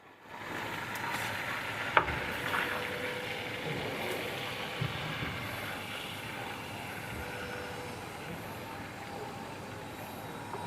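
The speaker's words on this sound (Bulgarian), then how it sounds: "до такова положение разтапяме маслото и слагаме червения пипер" Butter melting in a pan with red paprika sizzling steadily and softly, a close, even frying hiss with a couple of faint clicks near the start, no talking.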